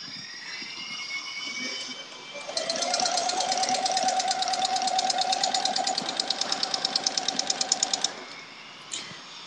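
A sewing machine stitching a rag quilt runs for several seconds with a steady motor whine and rapid, even stitching pulses, close and fairly loud, then stops abruptly.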